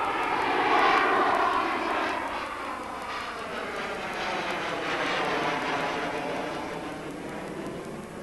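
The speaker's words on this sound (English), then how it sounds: "The 104 from Lockheed was initially designed as an interception and air superiority fighter." A Lockheed F-104 Starfighter jet fighter roars past in flight, a broad, loud engine rush that swells and slowly shifts in pitch throughout, with no talk.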